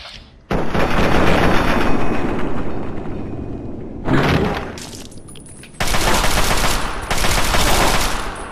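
Heavy, loud bursts of automatic gunfire in Fallout 3, several long sustained volleys separated by short pauses, close and dominant with no talking.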